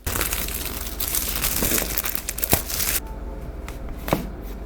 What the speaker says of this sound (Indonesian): Langsung saja kita unboxing.